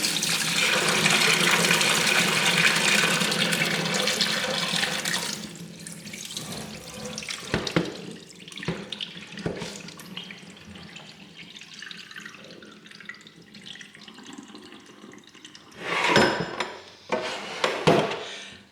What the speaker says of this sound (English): You just pour off this brine.